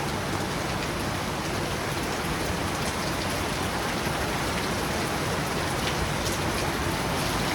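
Heavy rain pours steadily on a mountain road trip, a dense, unbroken roar of drops hitting surfaces, loud and close throughout with no talking.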